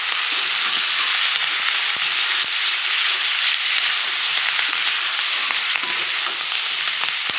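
Onions dropped into a pan of frying onion greens sizzle loudly and steadily, a dense close crackling hiss that continues without pause.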